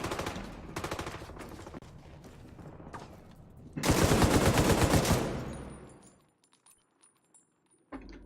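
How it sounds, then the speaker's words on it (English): Light machine gun fire in The Division 2, loud sustained bursts of rapid shots, with a heavier, denser volley near the middle that fades out, followed by a few faint clicks. "It's time for the LMG."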